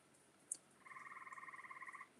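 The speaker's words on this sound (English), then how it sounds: "You don't have tree toads? I can hear them." Tree toads calling outdoors in the rain: a steady, fairly faint trill of rapid pulsed notes runs for over a second, with one brief sharp chirp just before it and a quiet background hiss.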